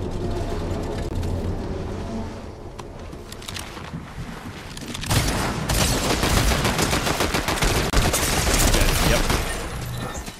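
Gunfire from a player's weapon in the Fortnite video game, a dense, loud burst of rapid shots that builds up partway through and keeps going. One brief spoken word is heard.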